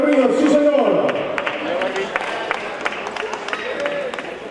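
Audience applause for Eric Ríos at a Caladero Botas Pakoy 2021 event, a crowd clapping and cheering that fades into scattered claps under an announcer's voice.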